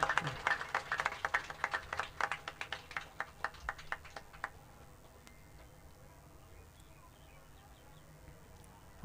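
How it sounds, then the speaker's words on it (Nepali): An audience claps in a gathering in the Pashupati area, a burst of scattered applause that swells at first, then thins into a few separate claps and fades out after about four seconds. "एकचोटि दिदीको सम्मानमा फेरि सबैले जोरदार ताली बजाइदिनु होला"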